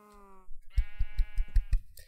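Sheep in the video game Minecraft give a couple of clear bleats, a short wavering call followed by a longer pulsing one, close and alone.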